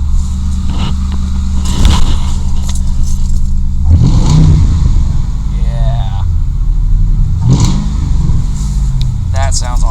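A Ford Crown Victoria P71 with a shot transmission idles loudly up close, its engine rising in several revving bursts over a rumbling idle, while keys jangle and people talk nearby.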